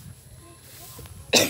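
A person coughs once, short and sharp, after a quiet moment with faint background murmur.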